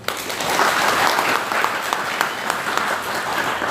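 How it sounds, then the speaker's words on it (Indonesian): An audience at a faculty worship service applauds together, a loud, dense and sustained clatter of clapping that fills the whole moment. "Boleh tepuk tangan."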